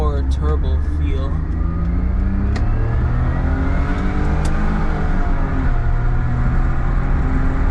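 Suzuki Alto Works kei car engine accelerating in L gear, a steady close revving drone whose pitch climbs and shifts repeatedly from start to finish, with a person talking over it.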